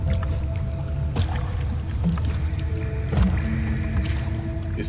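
Water squishing and splashing in Ori and the Blind Forest, a dense wet sloshing texture with a few soft thumps and faint tonal game sounds over a steady low rumble.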